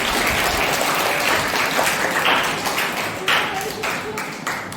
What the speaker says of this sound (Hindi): उनके लिए भी जोरदार तालियां बजाएंगे